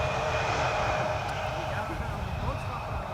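An Embraer 170 long-range airliner arriving at Amsterdam Schiphol Airport gives off a steady, broad engine roar at moderate distance, holding constant throughout.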